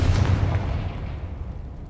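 A spell blast in the Hogwarts Legacy video game booms out once, loud and close, with a heavy low rumble that slowly fades away over the following two seconds.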